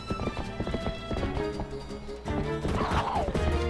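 Epona the horse in The Legend of Zelda: Twilight Princess whinnies amid busy galloping hoofbeats and game music, with the clip-clop driving a steady rhythm under the neigh.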